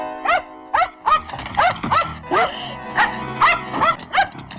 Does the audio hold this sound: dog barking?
yes